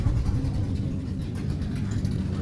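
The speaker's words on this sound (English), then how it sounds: "That noisy exhaust, you won't be able to hear me." A classic car with a noisy exhaust rumbles past on a parade cruise in Napier, New Zealand, giving a steady, low, throaty drone throughout with no talking.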